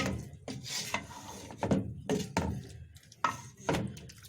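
Stirring biryani ingredients in oil in a pot: a series of rhythmic scraping, rubbing strokes of a spoon against the pot, about eight close, distinct passes with no talking.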